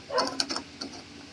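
An exterior door knob is tightened by hand, producing a few small metallic clicks and ticks over about a second, close and fairly quiet, with no talking.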